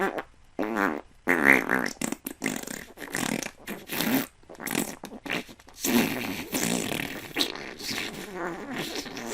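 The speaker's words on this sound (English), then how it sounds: "I hope that was a fart." A loud, long, sputtering fart with a buzzy, irregular rhythm that flutters on and off across the whole stretch, close and dominant with no talk over it.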